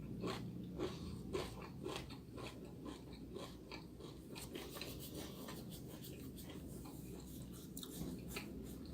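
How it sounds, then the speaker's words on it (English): Crunchy breakfast cereal being chewed close up, a steady run of dense crisp crunches with repeated bites and no talking. "It's important to chew your food regularly."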